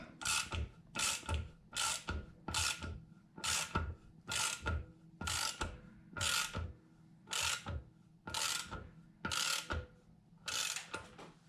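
Ratchet wrench cranking down checker springs on the cylinder head of a 5.3L engine, about a dozen evenly spaced bursts of rapid pawl clicking with short pauses between, close and crisp, no talking.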